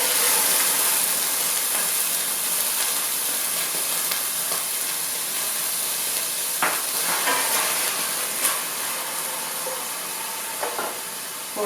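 Steady sizzling of beets frying in coconut oil with cumin seeds in a hot pan, a bright continuous hiss with occasional light stirring knocks, close up.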